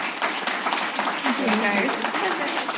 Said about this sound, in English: Please join me in a round of applause to our panel.